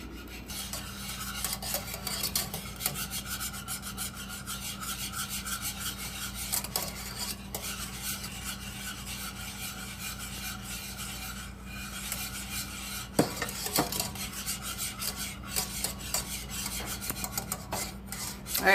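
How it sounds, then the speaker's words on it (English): Brisk, steady scraping and rasping of a whisk in a bowl as eggs are beaten into a goat milk mixture for ice cream, continuous and close with a few louder knocks, no talking. "you're going to slowly incorporate while whisking the eggs to"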